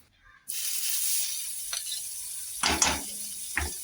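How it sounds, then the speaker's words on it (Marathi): Butter sizzles in a kadhai ahead of frying paneer: a steady hiss starts abruptly after a brief quiet moment and holds, broken by a few short, louder clattering knocks near the end. "इथे बटर टाकले मी कढईत पनीर फ्राय करून घ्यायला"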